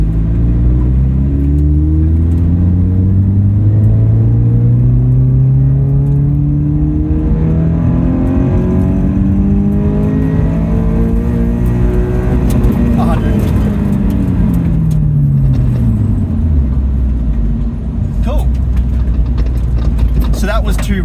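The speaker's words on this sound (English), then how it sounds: "Just done our 20 to 100 run in second gear" A car's engine revs up hard in second gear during a 20-to-100 roll run, its pitch climbing steadily and loud up close, then dropping off sharply near the end with a brief lift-off, speech faintly mixed in.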